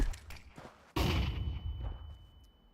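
A flashbang grenade going off in a video game: a sudden loud bang about a second in, followed by a lingering rumble and a steady high ringing tone that fades slowly.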